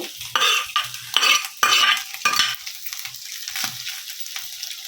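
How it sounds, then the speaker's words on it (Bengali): Restaurant-style mixed fried rice is stirred and tossed in a hot pan with a little ghee, giving repeated scraping, sizzling strokes up close, loud at first and then softer. "অল্প একটু ঘি দেবো ঘিটা দিলে স্বাদ হয় খুব হাত দিয়ে মিশিয়ে নেব"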